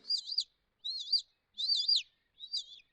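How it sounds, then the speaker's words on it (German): Four short, high, warbling chirps from a small bird, evenly spaced and fairly close against silence, with no talk. "Die Küken haben gepiepst, also so helle, sanfte Geräusche gemacht."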